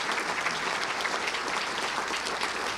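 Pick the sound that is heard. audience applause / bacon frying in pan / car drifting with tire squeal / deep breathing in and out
audience applause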